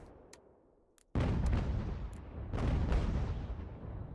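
Canister shot artillery fire from the game Ultimate General: American Revolution, a sudden loud cannon blast after a quiet lull followed by sustained rumbling volleys with a few sharp pops.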